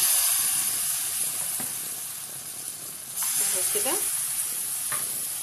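Crepe batter sizzling in a hot oiled frying pan, a soft steady hiss with faint stirring scrapes, while someone talks quietly over it.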